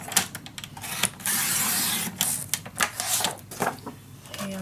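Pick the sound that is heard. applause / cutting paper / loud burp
cutting paper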